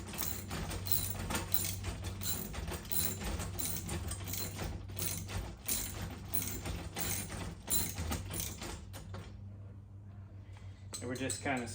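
Bolts being snugged down on a spare tire carrier rack for a Ford Bronco, with ratcheting and metallic mechanical clicks running steadily and close by, briefly dropping away near the end.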